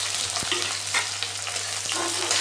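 Chopped onions drop into smoking hot oil in a pan after a spice tempering, giving a steady, close crackling sizzle with a couple of soft stirring knocks. No one speaks.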